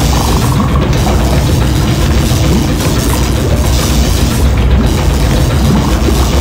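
A flask of strong concentrated acid explodes in The Black Mirror adventure game, giving a loud, sustained booming roar that fills the whole moment with heavy low rumble and no talk.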